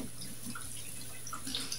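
Cooked chicken livers are rinsed under running water, giving a soft, steady trickle with light dripping and splashing, quiet and close, with no voices.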